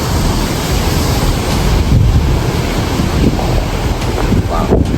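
Ocean surf and a strong sea breeze on the shore of Isla Mujeres, a dense continuous roar of waves with heavy wind buffeting the microphone throughout, no talking.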